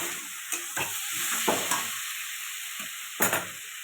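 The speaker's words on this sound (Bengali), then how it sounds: "এটা ভালো করে কষানো হয়ে গেছে, এবার জল দিয়ে দেবো।" Fish curry with potato and pointed gourd sizzles steadily in a pan, with a few scraping stirs and clinks breaking through the constant hiss as water goes in.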